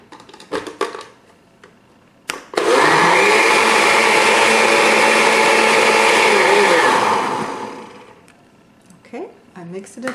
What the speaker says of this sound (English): now I will mix it for a while, and then stop and add some soda and mix it again